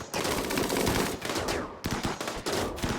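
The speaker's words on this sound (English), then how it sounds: "Shooting gallery is going full on shooting." Rapid automatic gunfire rattles from a shooting gallery in the video game RimWorld, dense continuous bursts with brief gaps, loud and close.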